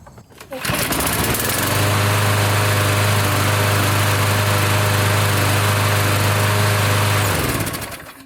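A lawn mower engine, one that starts but won't keep running, cranks over and catches, then runs loud and steady at a constant pitch close by for several seconds before cutting off.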